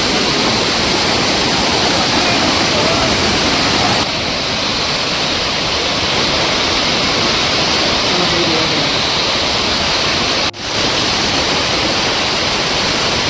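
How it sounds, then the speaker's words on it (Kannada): A waterfall on the Nethravathi Peak trek in the Western Ghats roars loudly and continuously, a dense close wash of rushing water that dips briefly midway and once more near the end. "ಸಿಕ್ಕಾಪಟ್ಟೆ ಸೌಂಡ್ ಇದೆ ಫಾಲ್ಸ್ಗೆ."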